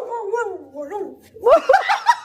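A dog gives a few quick barks near the end, loud and close, after a stretch of laughing, voiced sounds.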